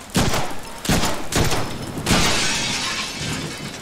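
Deadpool video game gunshots blasting through a wooden board, with four loud cracking impacts in quick succession, each shot carrying a splintering, shattering burst, and the last one trailing off into debris noise.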